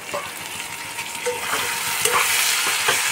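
Tomato goes into a pan of frying spiced fish, producing a steady bright sizzle with intermittent stirring scrapes, close and continuous, with no voices.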